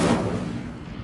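Incendio fire spell cast in the Hogwarts Legacy video game, a loud burst of roaring flame that erupts at once and rumbles on, fading slowly over about a second.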